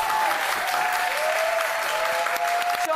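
Sustained studio audience applause on a Turkish daytime talk show, a dense, even clapping wash lasting throughout at steady loudness.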